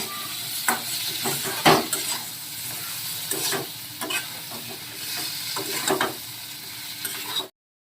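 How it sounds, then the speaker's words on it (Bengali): Spices with turmeric and salt sautéing in a pan, continuous sizzle under repeated spatula scrapes and stirring knocks against the pan, close and fairly loud, cutting off abruptly at the end; no talking. "এরপর আমি আরেকটু ভালো করে কষিয়ে নেবো"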